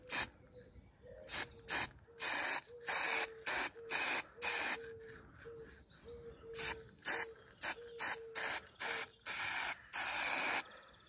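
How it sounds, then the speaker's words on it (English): An aerosol can sprays white paint onto a wheel rim of a 1200cc V8 4x4 buggy, producing many short, close hissing bursts in an uneven rhythm, each with a faint rattle or click between them, and no talking. "Take the little spray paint to it. So we can start spraying."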